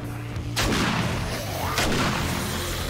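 Shotgun blasts in the zombie survival game 7 Days To Die, two heavy booming shots about a second apart, each followed by a decaying rumble over a constant ambient game drone.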